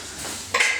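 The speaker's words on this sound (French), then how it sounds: "la préparation là, le sel, on mélange." Salt being mixed into homemade bread dough in a bowl, heard as a soft scraping rustle that ends in a sharper clink of utensil against the bowl, close and brief, with no talking.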